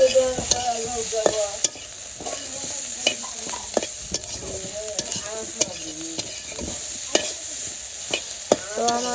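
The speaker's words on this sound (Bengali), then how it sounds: "বেগুন আর আলু কষানো হয়ে গেছে" Eggplant and potato sauté noisily in a pan, a continuous close sizzle broken by frequent spatula scrapes and stirring knocks throughout.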